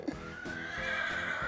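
A miniature horse whinnies in a long, quavering neigh that rises and wavers over about a second and a half, moderately close and clear, with no talk over it.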